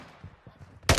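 Gunfire in the video game Modern Warfare 2 ends the moment as one sharp, loud burst, preceded by a quiet stretch of faint low thuds.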